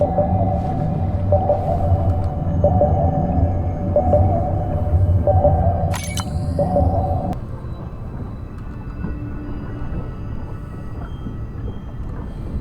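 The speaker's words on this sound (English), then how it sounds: "Andre, is it possible that this is one of our tags? That's my tag sound" A repeated low, tonal whale-like tag call from the video game Beyond Blue sounds several times over a steady rumbling drone, then stops, leaving the low rumble alone.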